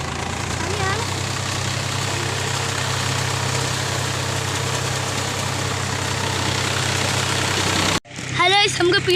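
Tractor engine idling in a rice field, a steady low mechanical chug and rumble that runs continuously, then cuts abruptly to a short burst of outdoor voices and birds.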